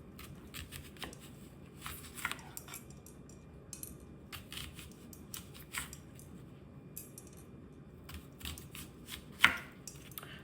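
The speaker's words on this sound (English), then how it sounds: "we're going to go ahead and cut up our onion" An onion is chopped on a board for toasted burritos, giving quiet, irregular knife taps and a sharper chop near the end over a faint kitchen background.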